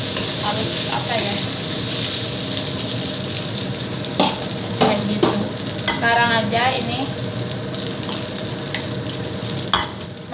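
Nasi goreng (fried rice) stir-fried in a pan, with continuous sizzling and frying plus occasional scraping of the stirring utensil, heard close under ongoing talk.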